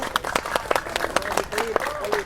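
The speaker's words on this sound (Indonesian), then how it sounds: "Tepuk tangan itu kan hal yang gampang, cuma begini doang." Audience clapping at a church gathering, a patchy round of hand claps under a preacher's spoken voice, moderately close.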